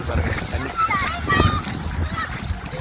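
Sea water in the Seychelles rises fast onto the shore, giving choppy splashes and sloshing close by. A person talks over the water throughout.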